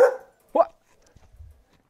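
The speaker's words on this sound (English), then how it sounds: "It's my friend the dog." A dog gives two short, clear barks close by, about half a second apart, followed by faint low thumps.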